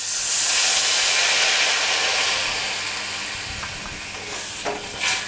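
Water poured into frying jujube chutney, already cooked with turmeric, bursts into a loud, hissing steam sizzle that slowly settles, with a few light utensil clinks near the end and no talking.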